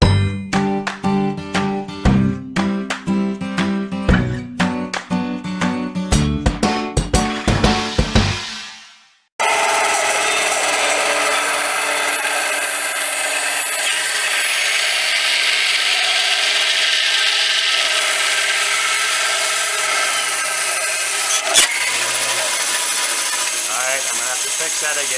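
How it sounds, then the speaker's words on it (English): A bandsaw, with a Foot Rubz massage ball held in vise grips, starts after a run of sharp metallic clanks and dings and then cuts with a steady, loud whirring hiss for a long stretch. "we're going to use these little vice grippers to hold that thing in place while I push it through the bandsaw"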